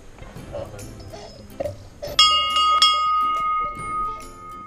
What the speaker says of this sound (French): Et là la fameuse cloche qu'on entend depuis tout à l'heure.